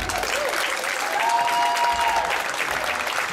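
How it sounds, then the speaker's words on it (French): Loud, sustained applause from a concert audience at a large live music show, a thick continuous roar of clapping with a faint tonal sound briefly riding over it. "On lui donne une autre main d'applaudissement."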